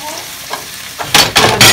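Yakisoba noodles with cabbage stir-fried in a home kitchen, the pan going from quiet to loud bursts of sizzling as the food is tossed, with three strong rushes in the second half.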